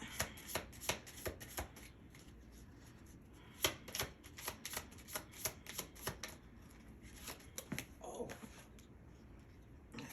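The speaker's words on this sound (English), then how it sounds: "let me get an oracle card for Libra's present" Oracle cards are shuffled close up during a card reading, a steady run of crisp riffling and slapping bursts with brief pauses between handfuls and no one talking.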